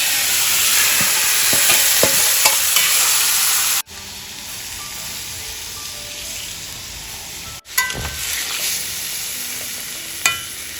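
Small fish sizzle and fry steadily in a hot pan as they are added, with stirring and brief pauses, then the sizzle rises again loud and close.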